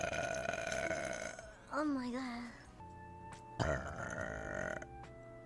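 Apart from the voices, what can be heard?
burping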